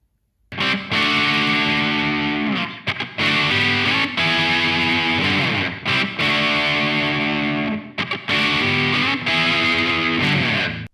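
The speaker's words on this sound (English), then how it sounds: "So what you just heard was a pretty basic classic rock sound." Electric guitar played through an FX100 multi-effects processor into a Marshall amp and cabinet, giving a distorted classic rock tone: loud sustained chords and riffs in several phrases with brief pauses between.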